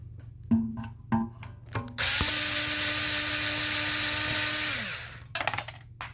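A power tool unscrews flathead screws on an old Briggs engine: short ratcheting bursts, then a steady whirring run of about three seconds, followed by brief clicks, all close and clear with no talking.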